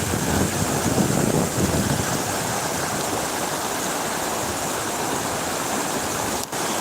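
A low river filled with algae flowing outdoors, a steady broad wash of moving water with some wind rumble on the microphone, continuous and moderately loud.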